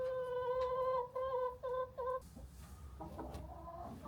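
A chicken in a coop gives four loud, close clucking calls in quick succession, then goes quiet and leaves softer rustling and low background noise.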